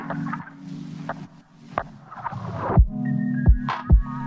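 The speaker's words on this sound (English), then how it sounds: "we get a cool downsample effect." A lofi beat passes through a transition where an automated downsample effect crunches and degrades the sound, with low bass tones and sharp thumping hits near the end.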